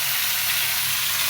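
Fish bhuna with onion, salt, ginger-garlic paste, turmeric and chili powder sizzles loudly in a pan, a constant close hiss of frying without pauses or voices.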